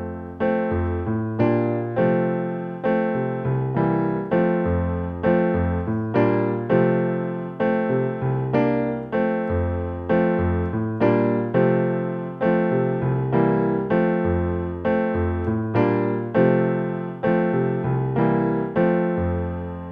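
A solo piano plays the introduction and chords of a piece in a steady, repeating rhythmic pattern of full struck chords, each decaying before the next, heard clearly and alone throughout.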